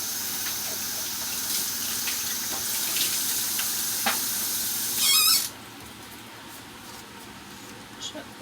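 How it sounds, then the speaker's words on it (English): Water runs from a kitchen tap while a pan is rinsed, a steady hiss of flowing water that shifts and splashes briefly before cutting off, with a person talking over it. "what we're going to do is re-rinse our pan because it's been sitting there now"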